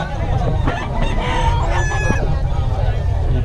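Roosters crow and cluck at a festival expo, several overlapping calls against a constant low crowd rumble and clamor.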